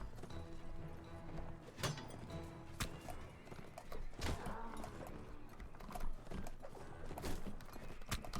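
Horses clip-clop and neigh amid a cavalry group in the Mount & Blade Warband video game, faint hoofbeats and whinnies blending with clattering battle ambience throughout.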